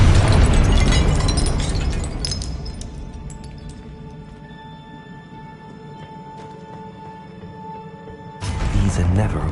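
A Confringo spell explosion from the Hogwarts Legacy video game bursts loud and close at the start, then decays through a ringing, sparkling tail before a second loud burst of game action near the end.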